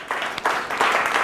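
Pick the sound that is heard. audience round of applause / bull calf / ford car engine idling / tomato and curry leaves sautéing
audience round of applause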